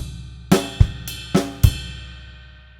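Drum kit groove from a Grade 4 rock lesson: ride bell strikes alternate with bass drum and snare hits in a syncopated pattern, five clear, close, loud hits with ringing decay and no talk.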